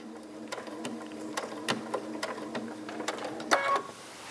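A sewing machine stitching a biscornu pillow, its needle thumping in an irregular run of close, moderately loud beats over a low motor hum, ending with a brief tonal whir and no voices.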